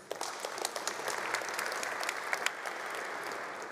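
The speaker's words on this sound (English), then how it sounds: "one more round of applause for our founders, please." Sustained audience applause for founders at a startup pitch competition in Berlin, steady dense clapping throughout with no voices over it.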